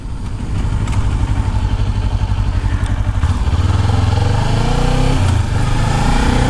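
A Kawasaki Ninja 400 motorcycle engine drones loudly and continuously while riding, with a steady rev and a shift in pitch partway through, heard up close.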